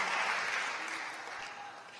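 A church congregation claps for the Lord during a sermon, a dense wash of applause that is loud at first and gradually thins out.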